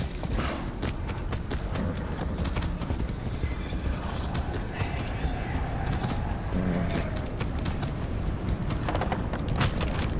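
A horse gallops in the Far Cry 6 video game, with rapid, steady hoofbeats running continuously and loud under a dense wash of other game sound effects.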